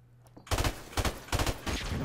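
Loud, rapid automatic gunfire fired through a wall in Call of Duty: Modern Warfare Remastered, several close bursts in quick succession over about two seconds.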